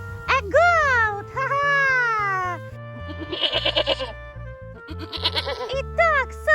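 A goat bleats loudly in long, wavering calls, then in quicker stuttering cries, set against a music backing.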